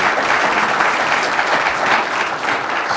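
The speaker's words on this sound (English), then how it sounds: "let's give them a round of applause" Sustained applause from a conference audience thanking a symposium panel, thick even clapping that carries on for several seconds without voices.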